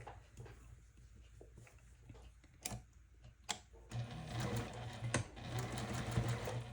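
A sewing machine stitches large precut quilt blocks: soft handling clicks and taps come first, then the motor kicks in midway with a close, steady whirring run.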